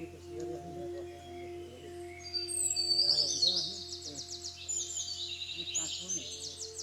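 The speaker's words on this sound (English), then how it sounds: "We could hear the sound of insects and the chirping of birds." Birds chirp and call in a forest along a slippery trail, bright twittering bursts at moderate distance over a steady electrical hum, with a voice talking now and then beneath them.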